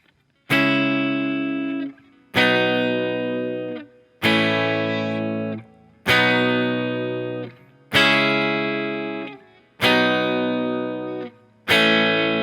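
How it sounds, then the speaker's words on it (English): Seven single strums on guitar mark the chord changes of a song's bridge. Each chord is struck once and rings out for about two seconds before the next, close and unaccompanied. "except we're going to be strumming each chord once."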